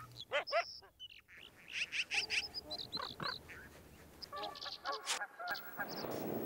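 Geese honking in Yellowstone National Park during spring thaw, several calls overlapping in bursts, moderately close, with other bird calls mixed in and no talking.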